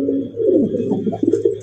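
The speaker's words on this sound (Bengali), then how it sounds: "আজকে তো দেখা যায় প্রত্যেকটা প্রায় কবুতরই মনে করেন যে ডাকের দিক দিয়ে সেরা" A red pigeon from a fancy breeding collection gives a short, close, throaty coo that rises and falls over under two seconds.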